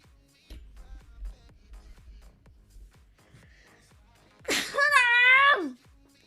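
A single sneeze bursts out near the end, sharp and fairly loud, following quiet shuffling and faint background sounds indoors.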